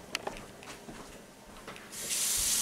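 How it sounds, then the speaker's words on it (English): Cold tap water gushes into a kitchen sink over frozen vegetables, a steady close hiss that starts abruptly after a few faint clinks and handling noises. "Go ahead and just let the cold water run on for a second."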